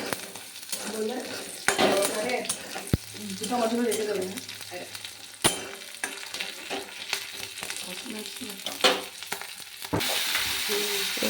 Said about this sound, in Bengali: আমি একটু আদা রসুনের পেস্টটা আমি দিয়ে দিয়েছি এটাও একটু ভেজে নেবো